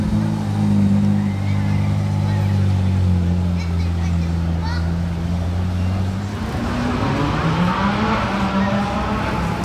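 A powerful Ferrari 458 sports car engine roars past, its pitch sliding as it passes and fades, over busy outdoor background noise.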